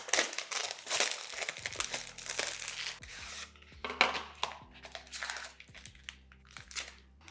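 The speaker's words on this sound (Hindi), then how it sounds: "बाकी अब इन कवर्स को भी अनबॉक्स कर लेते हैं।" Plastic packaging crinkles and rustles close up as phone back covers are unboxed, with irregular crackling bursts and soft handling noises, quiet and without talk.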